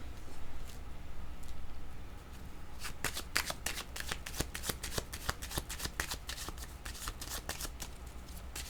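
Tarot deck being shuffled for a card reading, a soft rustle at first giving way to a quick run of crisp riffling card snaps, close and fairly quiet.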